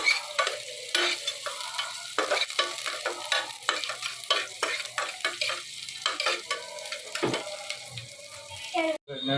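Onion hits hot ghee for home biryani, sizzling and spattering up close, with repeated stirring scrapes and clatter through a steady, uneven frying hiss.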